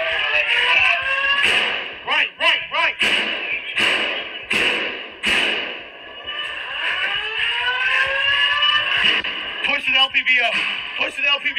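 A loud, steady alarm blares nonstop throughout a school shooting, with police and people shouting over it and occasional sharp thuds and bangs nearby.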